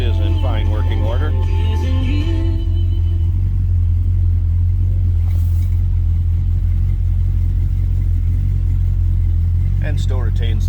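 A 1968 Dodge Coronet 440 two-door hardtop idling steadily with a deep, constant low rumble close by, with a brief rev near the start that settles back to idle.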